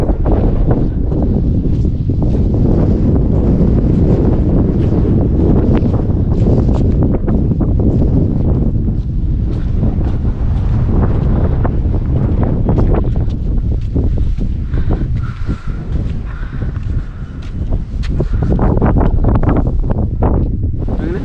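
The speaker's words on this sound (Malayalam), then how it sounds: "നല്ല കാറ്റാട്ടോ അവിടെ എന്ത് രസം" Strong wind blows across an open hilltop viewpoint at Pallassana Vamala, buffeting the microphone with a loud continuous roar that surges and eases over twenty seconds, with rustling underneath and no clear talk.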